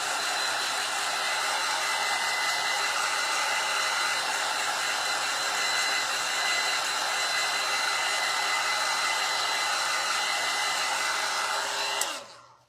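A hair dryer blowing on embroidery pieces, a loud, constant close-up whoosh that runs steadily and then cuts off abruptly at the end.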